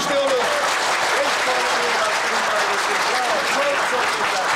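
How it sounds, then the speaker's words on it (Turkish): A studio audience at a Turkish television family quiz show claps in loud, dense, continuous applause that holds evenly for several seconds. "Alkışlıyoruz."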